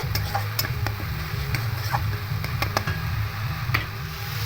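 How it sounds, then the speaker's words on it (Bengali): Ginger, garlic and onion sauté in a pan for a curd-style catla fish curry, with a low steady sizzle under repeated light clicks and taps of a spatula stirring at an uneven rhythm. "খুব ভালো করে একটু কষে নেব আদা রসুন পেঁয়াজের কাঁচা গন্ধতে চলে যাওয়া পর্যন্ত"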